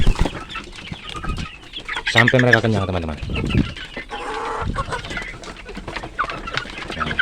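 Farm chickens being fed give repeated clucks and short squawks nearby, mixed with other birds, while someone talks over them.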